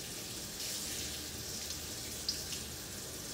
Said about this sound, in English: So I will put it in a colander and have the water running over it a little bit.